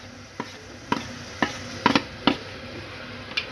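Turmeric stirred into a potato and cauliflower curry in a pan: a handful of spaced spoon scrapes and taps against the pan, close and moderately loud, over a soft background hiss.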